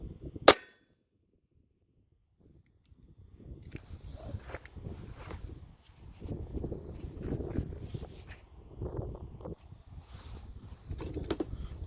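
A single sharp gunshot firing 7.62x25 steel core ammunition at a target, loud and abrupt at the start, then quiet followed by wind and outdoor rustling.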